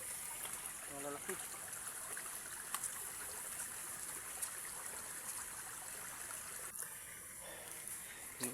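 A thin flow of water trickles and gurgles among large stones in a broad, almost dry mountain river, a steady hiss alone with a short knock or two partway through.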